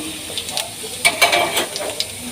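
Whole cumin seeds and a dried chili hit hot oil in a pan, giving close, crackling sizzle in short bursts that swell and fade over a couple of seconds, with no talk.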